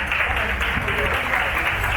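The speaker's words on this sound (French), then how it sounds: "Mesdames et messieurs, s'il vous plaît, vos acclamations." An audience applauds arriving officials and diplomatic representatives at a scientific dinner, a steady, dense wash of clapping throughout with a voice faintly mixed underneath.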